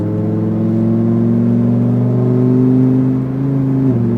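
A Lamborghini STO pulls hard along a race track, its engine holding a loud, steady, climbing whine from inside the car before a quick dip at a gear change.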